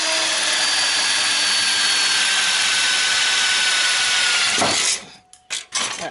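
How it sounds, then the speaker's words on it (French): A power drill boring holes for bonnet flap screws in car body panel work, a steady high whine running continuously, then stopping abruptly into a few short bursts and quiet. "j'en ai deux comme ça à percer"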